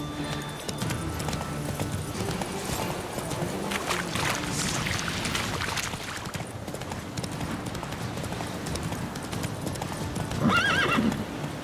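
Roach, a horse in The Witcher 3 game, gallops with steady clip-clopping hooves throughout, then lets out a loud neigh near the end, with no voices over it.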